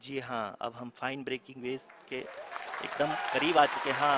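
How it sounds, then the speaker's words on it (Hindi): Clapping rises in the background during the Chandrayaan-3 lunar landing broadcast and swells to a steady, fairly loud applause under a Hindi commentator's continuing speech. "आप तालियों के गड़गड़ाहट से सुन सकते हैं कि हम लोगों ने तीसरे चरण को भी बहुत ही"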